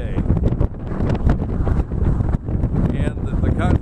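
Strong wind gusts roar steadily against the microphone on a stormy day beside a farm hangar, a constant loud buffeting with brief dips and surges throughout.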